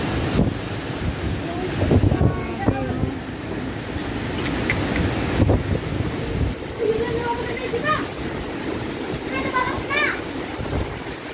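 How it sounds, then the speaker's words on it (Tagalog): Strong typhoon wind roars and buffets the microphone with a constant wash of rain noise in Bicol, Philippines, while voices talk over the storm. "Galing kasi doon yung hangin tsaka ulan pag ganito eh."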